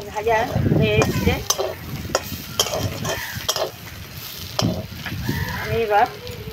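Cauliflower florets sizzling and frying in a pan, a steady crackle broken by repeated scraping and stirring strokes, close and fairly loud, with a voice talking over parts of it.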